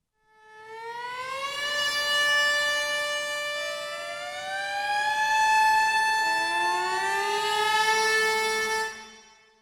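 A cello plays sustained harmonic siren chords that slide up and down in pitch like a wailing siren, loud and continuous with no talking.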